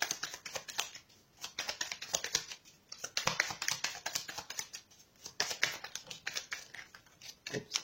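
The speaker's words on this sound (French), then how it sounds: "D'abord, je mélange un petit peu et on verra les prochaines cartes qui tomberont." Tarot cards shuffled by hand up close, a rapid run of crisp papery flicks and riffles with short pauses, with no voices.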